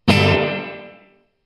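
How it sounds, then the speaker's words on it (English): A single distorted guitar chord through a Blackstar Debut 50R amp with heavy reverb, struck loudly then cut short with a gated, decaying reverb tail fading over about a second. "So there's quite a lot of reverb there."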